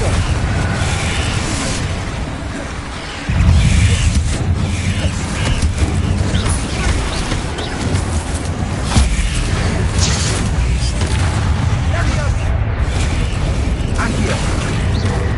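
Repeated fiery blasts from the Confringo spell in the Harry Potter Legacy video game, loud, dense booming and crackling bursts that run continuously over a heavy low rumble with game music and effects layered in.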